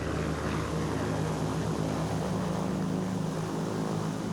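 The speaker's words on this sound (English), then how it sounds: "Hitler crisscrosses Germany in a private plane during the first modern electoral campaign." A private propeller plane drones steadily in flight, a continuous engine hum that stays level and fairly close throughout, with no talk over it.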